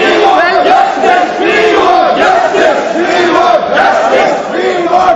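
Members of India's parliament raise a loud, sustained uproar in the chamber under Speaker Sumitra Mahajan, a dense mass of overlapping shouting voices filling the whole stretch without pause.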